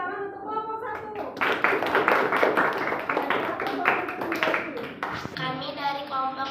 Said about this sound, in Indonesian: Coba beri tepuk tangan untuk kelompok 1.